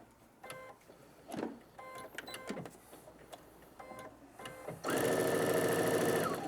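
A sewing machine stitching a Y-seam: short bursts of nearby mechanical whirring and clicking stop and start, then a steady, louder run of fast stitching at the end.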